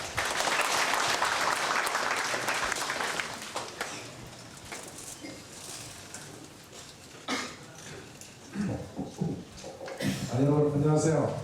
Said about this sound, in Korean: 백재현 시장님을 큰 박수로 환영해 주시면 감사하겠습니다